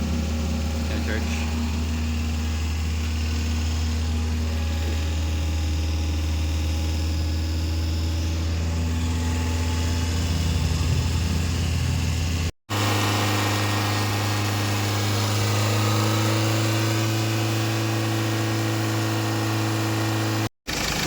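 A Ford Ranger 2.2/3.2 engine idles steadily after an alternator repair, a constant low rumble with a hum over it that runs nearly the whole time, briefly cut twice, with people talking nearby.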